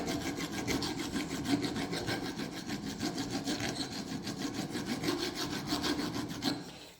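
Steady rhythmic rasping of a file working the edges of a metal piece clamped in a vise, close and continuous with evenly repeated strokes for several seconds before stopping.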